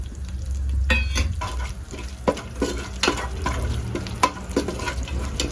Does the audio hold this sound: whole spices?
yes